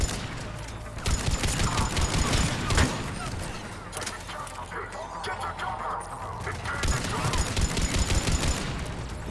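Rapid gunfire bursts from the Mass Effect video game, with loud, dense volleys of shots running almost continuously through the clip amid combat noise.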